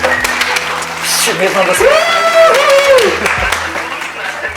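Applause breaks out for a guest on a television talk show. The clapping is a moderate wash of crowd noise that stays underneath loud talking voices throughout.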